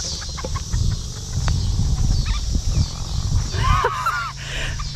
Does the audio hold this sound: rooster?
yes